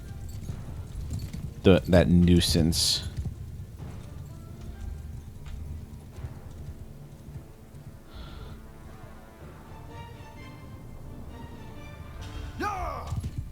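Cavalry horses gallop in a Mount & Blade II: Bannerlord battle, a busy clatter of hooves with a loud burst early on, then steadier drumming beneath a voice talking over the action.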